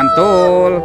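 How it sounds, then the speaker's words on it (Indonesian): A toy rooster gives one short, loud, nasal crow of under a second, close up and alone, with a brief attack before the sustained call. "ayam berkokok"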